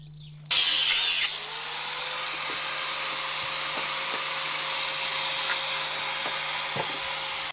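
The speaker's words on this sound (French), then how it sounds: "maintenant on va couper l'ancien gond" A power tool starts abruptly with a loud whine, then settles into a steady high-pitched grinding drone while cutting through an old metal shutter hinge, close and continuous for several seconds.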